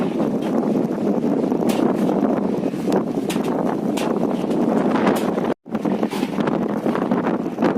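Strong monsoon wind roars and buffets continuously at a fish port in Pasacao, Camarines Sur, Philippines, with gusty rumbling and rustling, briefly cutting out for an instant before resuming.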